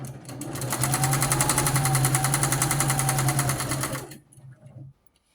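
Sewing machine stitching through eight layers of rag quilt fabric to join two rows, a fast steady mechanical whirring rattle for about four seconds that then stops, followed by a few brief softer stitches.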